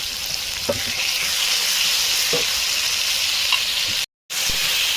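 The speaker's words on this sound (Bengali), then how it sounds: "এরকমভাবে অনেকক্ষণ কষাতে থাকবে" Mutton curry masala frying in oil, a loud, constant close sizzle with faint occasional stirring knocks, broken by a brief dropout of near silence near the end; no speech.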